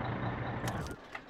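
A truck engine in My Summer Car, a septic-tank cleaning truck, rumbles steadily and then cuts out, leaving a brief metallic jangle and near silence.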